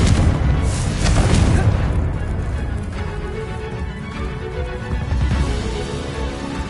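A Confringo fire spell blasts in Hogwarts Legacy, a loud booming explosion that rolls out and decays into a rumbling tail, with further softer impacts and crackles trailing after.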